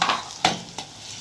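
Onions sautéing in a pan for poha, a soft steady sizzle broken by two or three sharp scraping stirs of a spoon, close and clear with no voices.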